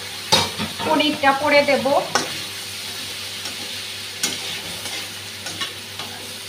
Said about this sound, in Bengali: মশলাটা ভালোভাবে ভাজা হয়ে গেছে, এখন ভেজে রাখা আলুটা দিয়ে দিচ্ছি।